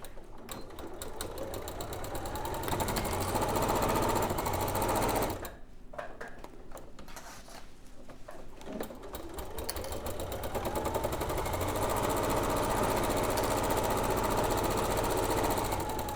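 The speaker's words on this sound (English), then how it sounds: "then we're going to sew all the way around, but I'm going to leave a hole here" Sewing machine sewing around a quilted project, with close, fast rhythmic stitching that stops briefly partway through and then resumes steadily.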